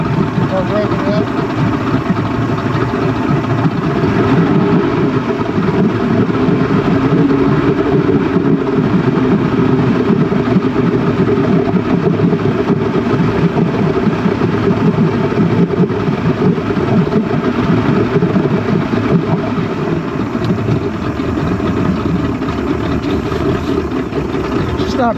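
A Mercury 135hp outboard engine running steadily and loud at close range throughout, with a constant rumbling drone and no clear breaks.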